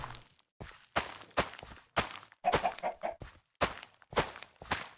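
Minecraft chicken clucking mixed with blocky in-game footsteps, a run of short bursts with brief pauses between them, close and fairly clear with no talking.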